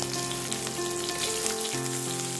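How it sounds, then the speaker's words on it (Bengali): Thin strips of sliced potato fry in hot oil with a steady, dense sizzle, the bubbling hiss holding at an even close level across the whole stretch with no voices. "আলুগুলোকে ভালো করে আগে ভেজে নেব"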